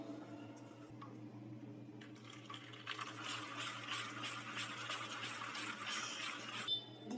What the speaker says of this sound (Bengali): আর এতে অল্প অল্প উষ্ণ গরম জল দিয়ে আর একটু ব্যাটারটা